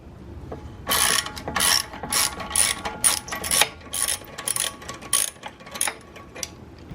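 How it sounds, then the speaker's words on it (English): Ratchet wrench loosening a 12mm exhaust clamp between the slip-on and header on a 2018 Kawasaki KLX140L, a close series of sharp clicking bursts in an uneven rhythm, with no talk. "Now let's go ahead and loosen up the clamp from the slip-on to the header."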